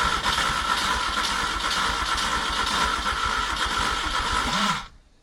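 A Peugeot 104 with fresh spark plugs cranks steadily on its first start attempt after long disuse, a continuous loud churning that runs without a catch before cutting off abruptly near the end.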